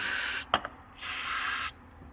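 Two bursts of brake cleaner aerosol hissing close by into engine holes of a 2017 ZR 9000 Turbo with low compression, a short one then a longer one, with a brief clatter between them.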